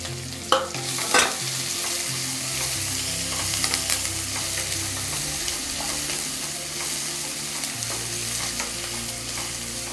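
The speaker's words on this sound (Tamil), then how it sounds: "வெங்காயம் கொஞ்சம் நல்லா வதங்கட்டும்." Chopped onions with curry leaves fry in hot oil for a millet recipe, a continuous loud sizzle punctuated by scraping and clinking stirs of a spoon against the pan, with no talking.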